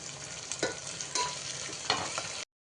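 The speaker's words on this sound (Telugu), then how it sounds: "ఇందులో వేసేసుకొని ఇవన్నీ లైట్ బ్రౌన్ వచ్చే వరకు వేయించుకుందాం." Green chillies fry in a pan until light brown while mutton biryani is being cooked, making a brief, soft sizzle with a few stirring scrapes.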